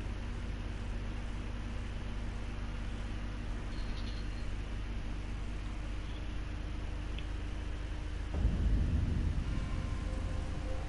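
Rain falls steadily in Elden Ring's Land of Shadow, a constant wash of drops with a deep rumble of thunder rolling in near the end; no voices.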